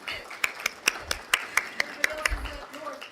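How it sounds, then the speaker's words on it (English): A community college audience applauds its Student Life and Leadership team, with sparse, distinct claps from a small group at moderate level and some low thumps and murmuring voices underneath. "So let's give them a round of applause."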